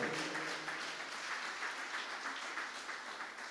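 A church congregation claps and cheers in worship, a steady dense wash of applause from many hands holding even for several seconds, heard from some distance with no clear voices over it.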